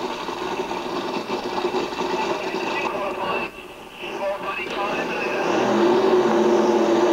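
Supercharged Ford-powered dragsters, a blown 1558 and a blown 1430 Ford, run at Santa Pod drag strip in 1976–77: a loud, raspy engine roar with a brief dip midway before building again, with talk over it.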